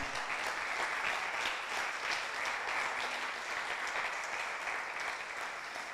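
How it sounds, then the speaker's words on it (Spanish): A church congregation applauds during a Spanish-language sermon, sustained dense clapping filling the room steadily for several seconds at moderate distance. "Dele ese aplauso al Señor."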